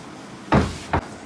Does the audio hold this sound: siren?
no